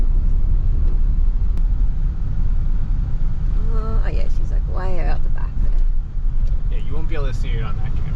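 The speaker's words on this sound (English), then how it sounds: "Driving along the Malacon." A car drives along the Malecon, giving a steady low road rumble and engine drone throughout, with people talking over it in the middle and near the end.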